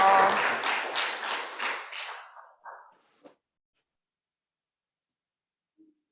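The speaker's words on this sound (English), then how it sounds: "A round of applause for Sue." Brief round of applause from an awards-ceremony audience honoring a recipient, moderately loud and fading out after about three seconds, followed by near silence with a faint tap.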